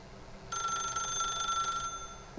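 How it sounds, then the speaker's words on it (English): A telephone rings in The Stanley Parable, a steady, bright electronic trill lasting over a second against quiet room tone, then cutting off. "pick up the phone"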